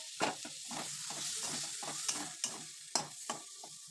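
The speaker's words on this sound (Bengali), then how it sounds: "এবার ঝিঙেগুলো দিয়ে ভালো করে কষে নেব" Ridge gourd being stir-fried in a cooked spice masala, a steady close sizzle broken by repeated scraping strokes of a spatula against the pan, with no talking.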